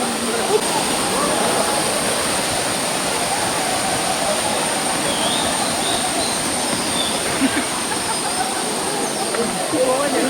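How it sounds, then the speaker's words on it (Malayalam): A small waterfall at Aruvikuzhy, a continuous broad rush of falling water heard steadily and fairly close throughout, with a faint high tone above it and no clear talk. "ചെറിയ വെള്ളച്ചാട്ടം."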